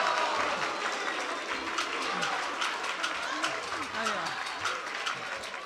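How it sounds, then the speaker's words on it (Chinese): Applause rises from the crowd at a year-end Deyun Society crossTalk show in Beijing, welcoming Li Jing to the stage, a sustained moderately distant clatter of many hands beneath a voice. "我们用最热烈的掌声有请李菁"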